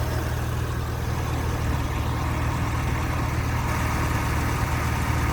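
A 2004 Porsche Carrera 2 cabriolet engine idles steadily, a low continuous rumble with a faint mechanical hum, constant in level for several seconds with no voices.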